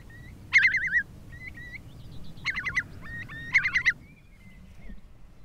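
Curlews give bubbling, warbling calls in three bursts, one at the start, one mid-way and one near the end, clear and moderately close over a quiet outdoor background.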